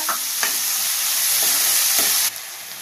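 Ridge gourd and moong dal with onion and tomato frying in a pan, a steady hiss of sizzling with a few soft scrapes of stirring, close and without talk.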